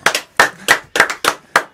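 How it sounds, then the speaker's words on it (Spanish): A few people clap together in about six separate, loose bursts of hand claps at the end of a spoken story, close and fairly loud, with no voices over them. "Aplaudimos."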